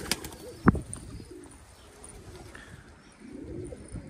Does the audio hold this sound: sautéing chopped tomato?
no